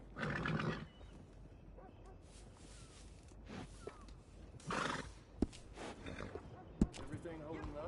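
Horse in Red Dead Redemption 2 whinnying in short bursts near a stable, mixed with hoof clops and sharp knocks, while people talk intermittently.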